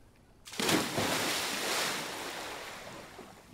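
Swimming in the water in the survival game Green Hell: a sudden splash as the character drops in, followed by a steady, loud wash of churning water that fades slightly over a few seconds.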